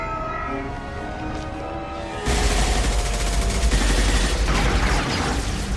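Gunfire erupts in the Mass Effect 2 video game, a sudden dense barrage that cuts in after a quieter stretch and keeps rattling loudly and continuously to the end.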